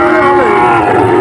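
Calves low and moo loudly up close at a crowded Bangladeshi cattle market, a single drawn-out bellow over dense background crowd chatter.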